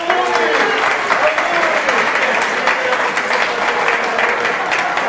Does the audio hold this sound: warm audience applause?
yes